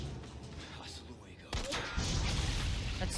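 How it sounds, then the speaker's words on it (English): A sudden booming explosion in the video game Resident Evil 4 Remake cuts in midway, followed by a loud rumbling wash of debris and noise; muffled talk is faintly present beforehand. "Explosion."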